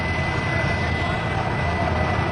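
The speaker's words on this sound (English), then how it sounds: "That freaking engine's still running. I don't believe it." Engine of a crashed aircraft still running, a loud steady roar with a constant hum and no breaks, heard close throughout.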